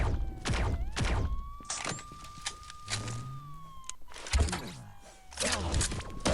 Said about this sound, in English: that sound of reloading